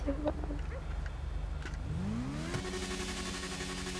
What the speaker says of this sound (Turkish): Ara gazına bakalım bunun bir.